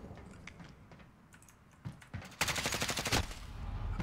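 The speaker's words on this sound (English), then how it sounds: "And that was some excellent shooting." Call of Duty gunfire: a few scattered shots, then a rapid automatic burst lasting about a second, mixed with keyboard clatter, with no talking.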